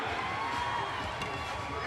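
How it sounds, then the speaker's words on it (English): Baseball fans cheer in a stadium during a Ball State versus Western Michigan game, a sustained distant crowd roar with scattered shouts. "Fans keep cheering them on."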